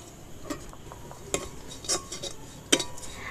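Metal spoon scraping and clinking against a pan while ground turmeric, chili and spices are stirred and fried, a few distinct close taps over a faint low sizzle, with no talking.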